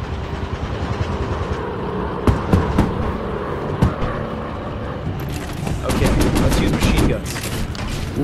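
Bursts of rapid aircraft cannon fire in a WWII warplane video game crackle in short volleys over a steady engine drone, with a longer, louder burst near the end.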